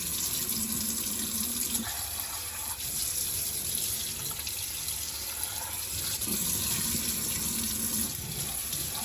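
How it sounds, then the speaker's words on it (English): Tap water runs steadily into a sink while a detachable part of a Dyson V15s Submarine wet-cleaning vacuum is rinsed under it, a continuous close splashing hiss with no talking. "just rinse it out very easily."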